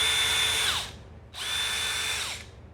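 A DeWalt power tool powered by a Ceenr PDNation battery runs in two bursts, each under a second, with a short pause between them. The whine is loud, close and high-pitched, and no voices are heard.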